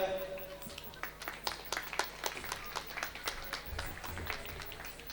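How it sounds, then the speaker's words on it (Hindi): At a village stage event welcoming an elder, the audience claps in a rapid, steady patter at a moderate distance. People talk over the applause throughout. "सियान आवत हवे एक बार जोरदार ताली हो जाए"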